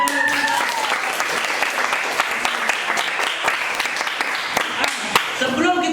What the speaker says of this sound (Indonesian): Oke, mantap sekali, tepuk tangan.